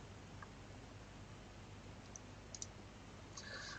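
Quiet computer mouse clicks on a Mac, a few small sharp ticks including a quick double click, faint against low background hiss with no speech.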